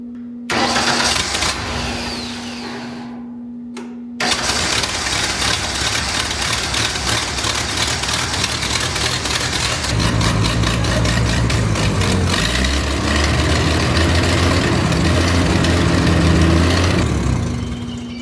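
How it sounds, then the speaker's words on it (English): A large wood chipper's motor cranks briefly, then catches and runs on, shifting into a steadier, heavier idle partway through; loud, close and continuous, with no talking. "We know the motor runs."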